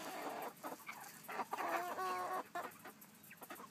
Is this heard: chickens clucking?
yes